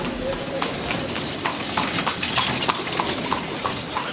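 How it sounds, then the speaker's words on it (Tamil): A horse-drawn cart travels along a street in Cuba, hooves clip-clopping in a steady rhythm over a background of wind and road noise. "இப்போ இங்கே குதிரை வண்டின்றது வந்து ஒரு நார்மலாக வந்து மக்கள் பயணிக்கிற ஒரு வாகனம் மாதிரி"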